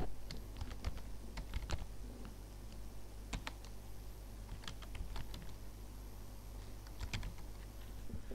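Fast keystrokes on a computer keyboard while a shape is drawn in MS Word, clicking in uneven bursts over a steady low hum, close and fairly quiet, with no one talking.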